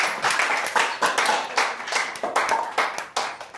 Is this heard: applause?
yes